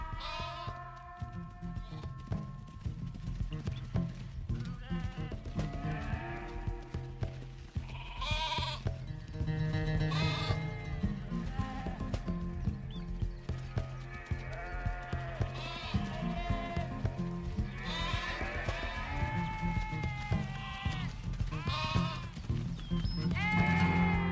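A flock of sheep bleating repeatedly in the open, with many overlapping calls near and far over a steady background.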